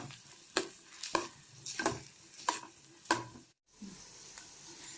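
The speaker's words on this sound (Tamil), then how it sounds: "வெங்காயம் வதங்கட்டும்." Onions sautéing in a pan with curry leaves and chopped garlic, a steady low sizzle broken by repeated scraping stir strokes at a regular pace, close by, with a brief silent gap near the end.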